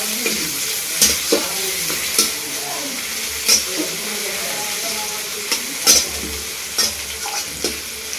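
Chicken pieces fry in a pan with tomato and green chili, a strong continuous sizzle broken by regular scraping strokes of a stirring spoon, close and loud with no speech.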